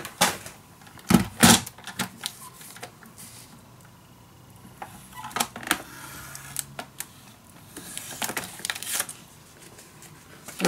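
Patterned scrapbook paper is cut for a handmade mini album, giving sharp snips and crisp crunching clicks in irregular clusters, close and moderately loud, with quiet rustling in between.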